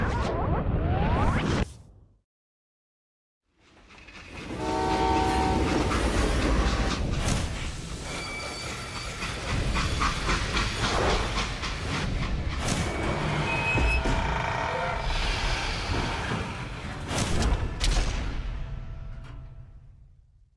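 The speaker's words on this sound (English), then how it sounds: "They hopped a freight train" Freight train rumbling and rattling in the Call of Juarez Gunslinger video game, a loud, steady mechanical clatter with whooshing air and screeching metal tones that runs nearly throughout after a brief silence near the start.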